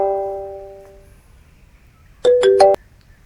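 A phone ringtone chimes out in a quick series of bright electronic tones, loud and close, after a stretch of quiet with a faint fading tone at the start.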